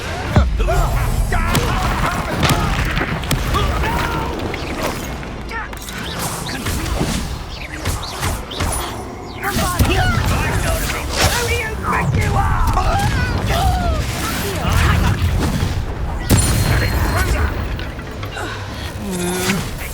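Fiery Confringo spell blasts crash and boom through a chaotic Hogwarts Legacy battle, loud and near, with whooshes and impacts layered over a continuous din of combat effects and voices.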